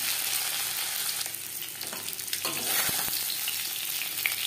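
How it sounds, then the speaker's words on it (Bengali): Live shing catfish lightly frying in oil in a pan, a steady dense sizzle with crackling pops throughout, close and loud with no talking. "জ্যান্ত মাছ আমি হালকা করে ভেজে নিলাম।"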